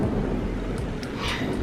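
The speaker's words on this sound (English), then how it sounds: "Yo, this thunder is not letting up." Thunder during a thunderstorm: a continuous deep rumble with a few faint crackles, close and steady for under two seconds, no voices.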